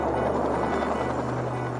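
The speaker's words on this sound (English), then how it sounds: "The tip jets fired up just before takeoff." A Fairey Rotordyne compound helicopter's tip jets roar as they fire up before takeoff, a loud, continuous, rough engine rumble with a steady low drone and no talk.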